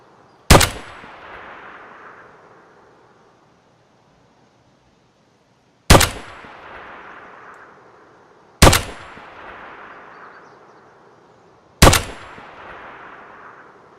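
Four loud, sharp single gunshots from M61 rounds in the video game Escape from Tarkov, fired at a 200 m range. Each crack is followed by a long rolling echo, with uneven pauses of about three to five seconds between shots.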